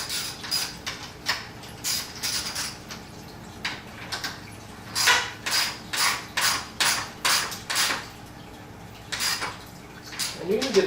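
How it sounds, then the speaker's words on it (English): Locking nuts being tightened onto a metal light bar bracket on a 2017+ Ford F-150 Raptor grille, a close series of sharp metallic ratcheting clicks and taps in rhythmic bursts with short pauses between. "Put our two locking nuts on there. Just like that. I'm going to tighten this down just like I did the other side."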